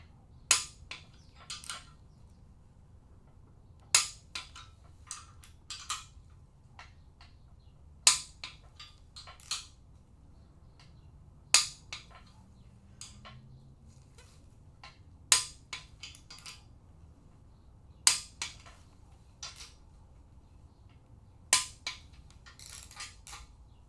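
A torque wrench clicks sharply as main bearing caps are tightened on a small block Chevy engine, giving isolated loud clicks every few seconds with quieter ratcheting between them in a quiet workshop.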